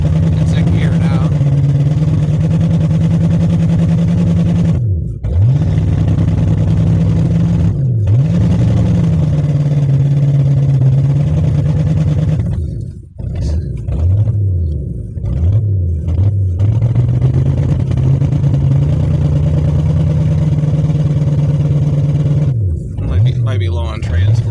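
A 1978 Ford LTD sedan's engine runs in gear with a loud, steady low rumble that sags and recovers a few times, close to the listener.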